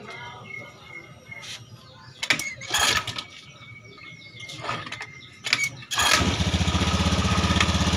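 An automatic motorbike is kick-started: a few close mechanical clunks and rattles come first, with faint birds in the background, then the engine catches and settles into a steady, loud idle.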